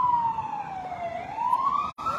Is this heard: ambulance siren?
yes